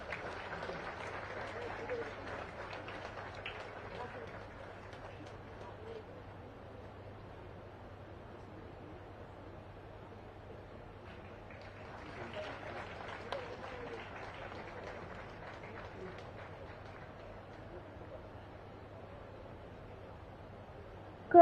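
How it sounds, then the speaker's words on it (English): A gathering at a Kargil war victory anniversary ceremony with the Governor applauds a colonel: two spells of soft, distant crowd clapping over a low steady hum, separated by a quieter stretch. "I request the gathering to give a big round of applause."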